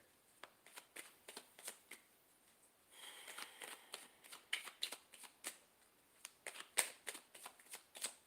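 Tarot cards being shuffled by hand, close and quiet: a run of crisp, rapid riffling flicks with a brief denser burst midway, no voice.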